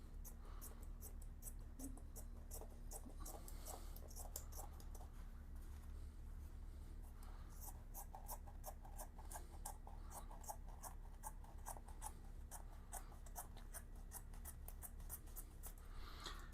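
Scissors snip through motorcycle seat cover material for a 2007 Yamaha Virago 250, a quick faint train of crisp close cuts running steadily throughout over a low background hum.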